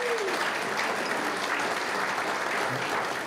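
Audience applause at a regional government awards ceremony, a steady wash of clapping from many hands filling the room at a constant level throughout.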